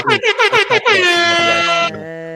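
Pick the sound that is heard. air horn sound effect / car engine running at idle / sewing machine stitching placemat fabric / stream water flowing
air horn sound effect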